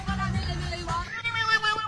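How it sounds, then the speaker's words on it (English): Cat making an odd, warbling meow sound, heard as a dense, tonal, wavering cry with a low humming layer underneath, lasting through the whole short moment. "I don't know what makes a cat make that noise."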